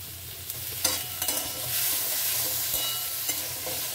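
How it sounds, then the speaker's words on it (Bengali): Chopped tomato fries with onion in a hot pan, a continuous bright sizzle broken by several sharp spatula scrapes and taps, close up. "দিয়ে ভালো করে নাড়িয়ে নেব"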